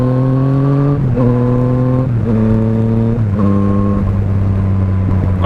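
A stock 2017 Yamaha MT-09 motorcycle accelerates hard, its engine pitch climbing then dropping at each clutch upshift, about four shifts in quick succession, loud and close with wind noise underneath.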